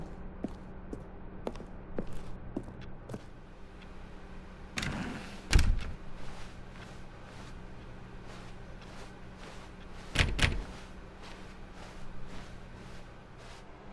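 Footsteps and a door opening and closing in the video game The Stanley Parable, with a run of soft, regular steps and two louder door thuds well apart, plus faint mechanical clicks, without talking.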